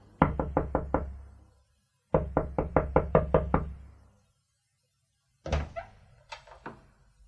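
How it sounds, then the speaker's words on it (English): Someone knocks urgently on a door in loud, rapid bursts of about six and seven raps, separated by a pause, then a third, more uneven series of heavy thumps. No speech is heard. "there was an urgent knock on my door"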